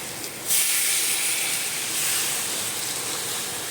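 Water poured into a hot pan while fish is being cooked bursts into a sudden loud hiss, then keeps steaming and bubbling steadily and close by for several seconds.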